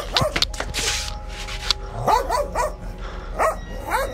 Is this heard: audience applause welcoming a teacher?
no